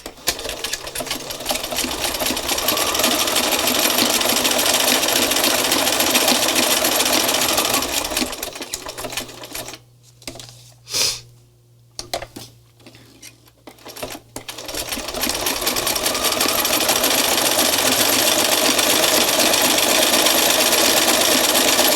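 A sewing machine stitches across art journal pages, a steady rapid mechanical whir that drops away into near silence with a few short bursts of stitching before the continuous hum resumes.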